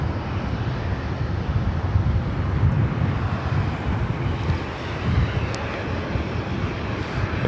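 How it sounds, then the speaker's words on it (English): A former America West Airbus A319 airliner at LAX gives off a continuous low jet rumble, moderately loud and slightly gusty, with wind buffeting and no speech. "This is the old America West A319 doing the San Francisco LA routes back and forth throughout the course of the day"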